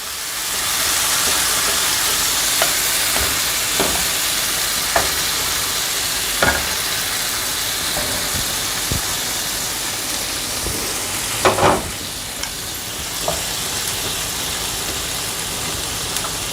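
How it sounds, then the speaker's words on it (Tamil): Marinated paneer cubes fry on a tava over medium heat, giving a steady, dense sizzle throughout with occasional sharper pops and spatters, and no talking. "ஊற வச்சுருக்கக்கூடிய இந்த பன்னீர் க்யூப்ஸ் இருக்குல்ல, அதை நம்ம ஃப்ரை பண்ண போகிறோம்"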